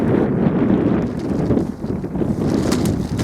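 Strong wind gusting against the microphone outdoors while an umbrella is tested, a loud low rumbling buffet that swells and dips briefly, with no voices.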